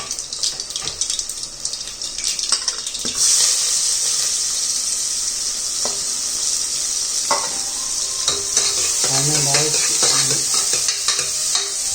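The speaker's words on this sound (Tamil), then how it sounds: "கடுகு நல்லா பொரிஞ்சிச்சு." Mustard seeds splutter and crackle in hot oil for a Chettinad-style fish curry, with green chilli and curry leaves going in: a steady, loud close sizzle dotted with sharp pops, and no talking.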